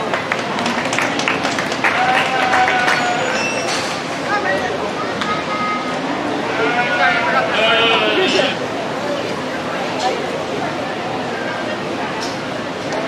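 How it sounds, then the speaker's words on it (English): Applause from the audience at a 2020 dairy and beef livestock show ring, steady crowd clapping running through the whole stretch with talk and chatter over it. "Go ahead and give this young man a round of applause"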